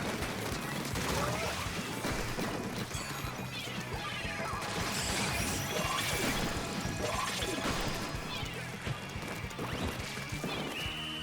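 Dense, chaotic Splatoon 3 battle noise with bombs bursting amid constant splashing and crashing effects, loud and continuous, layered with game music and a voice talking over it.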